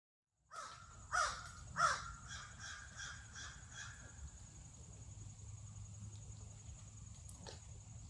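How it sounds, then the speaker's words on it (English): Several crows caw nearby in short bursts, two loud calls standing out early, over a steady outdoor background hum. "There's a group of crows who just stopped by for lunchtime."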